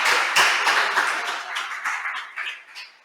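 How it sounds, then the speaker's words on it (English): An audience at a memorial lecture claps after a skit, a dense burst of close hand claps that thins gradually over three seconds with no voices over it. "Can we please give them another big hand of applause"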